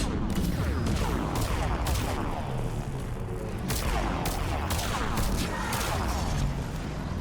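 Turret gunfire from Mass Effect 3 rattles in loud, dense bursts of rapid shots, with crashes and booms of battle mixed in, and the noise never stops.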